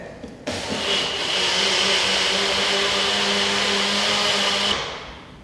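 A blender whirs at high speed as it mixes thandai with milk, a loud, steady motor drone that starts abruptly, holds for about four seconds and then winds down, close up with no talking.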